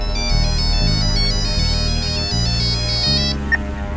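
A phone ringtone plays a steady repeating electronic melody for several seconds. It rings loud and close, with no talk over it, and stops shortly before the end.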